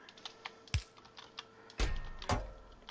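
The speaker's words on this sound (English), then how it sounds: "I'm like using the other side of the keyboard, guys." Computer keyboard typing during a Factorio game session: a few sharp, close key strikes and clusters of clacks with quiet gaps between them, no talking.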